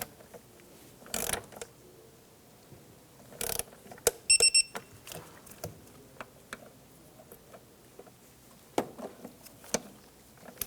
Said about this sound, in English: Torque down the throttle body bolts to 89 inch-pounds